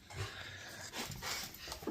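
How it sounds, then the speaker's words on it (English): Several dogs panting with faint whimpers, close by and fairly quiet, no talking. "We've got all 4 dogs."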